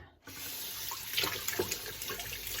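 Cherry tomatoes are rinsed under a kitchen tap: a steady, close rush of running water with small splashy fluctuations as the stream hits the fruit, no voices.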